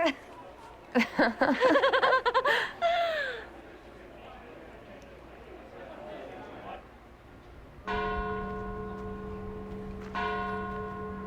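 Bells ring out in the Trespasser video game, a sustained resonant chiming tone that enters partway through and swells again near the end, preceded by loud excited voices and laughter.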